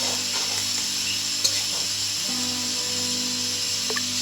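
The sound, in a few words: onions frying in oil on low heat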